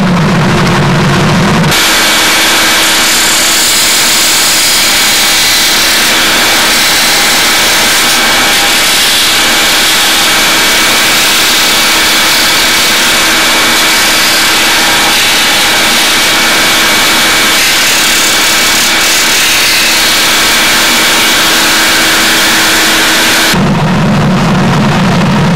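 A small Black & Decker VersaPak Wizard cordless rotary tool whirs at a steady high-pitched drone for over twenty seconds, loud and close, starting and stopping abruptly.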